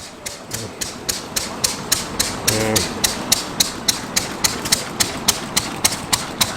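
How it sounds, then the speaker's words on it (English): A huge old stationary engine runs nearby at a commercial vehicle museum show, beating out a steady, even stream of loud mechanical knocks against a busy outdoor background. "If you're wondering what that noise is, it's that huge stationary engine just over the back there."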